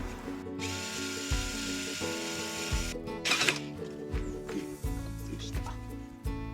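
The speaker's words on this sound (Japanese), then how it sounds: "この上にこういう端材をかまして下からビスって固定しようと思います" A cordless power drill drives screws through a wooden scrap block to fix a panel in an old used kei van being converted for sleeping, with several short whirring bursts, clicks and pauses close up.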